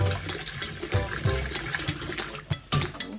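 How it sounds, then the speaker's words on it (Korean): Fresh abalone rinsed by hand under a running tap, with water splashing and gurgling steadily over the shells, close and moderately loud, broken by brief louder splashes near the end. "전복을 생으로 먹는 거는 이렇게 흐르는 물에 이렇게 깨끗이 씻어줍니다."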